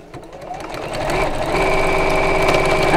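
A sewing machine top stitching alongside a seam with a longer stitch length, starting up and speeding into a loud, steady, rapid hum that holds close by.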